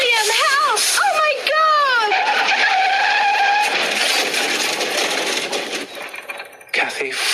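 Skidding sound effect before a bicycle crashes into the side of a lorry, with sweeping tire squeals and screeching that slide down in pitch, followed by a rougher scraping stretch and a sudden cut-off, loud and close.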